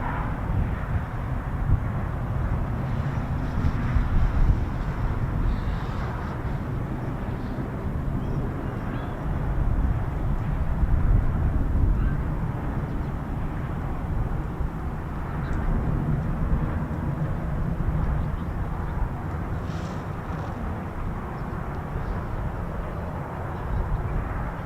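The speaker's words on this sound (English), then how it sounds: "the F-35Bs are not too far away now" F-35B stealth fighter jets approaching an RAF airbase: a low, distant, continuous jet rumble, steady and faint, swelling slightly at times.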